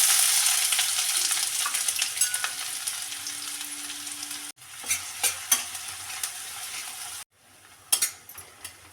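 Onion frying in hot oil with mustard seeds and cumin, a loud continuous sizzle with spoon clinks and stirring taps, briefly cut off twice, then resuming with sharper metallic knocks.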